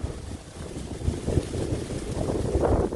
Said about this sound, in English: We're probably having some gusts upwards of 45 to 50 mile an hour.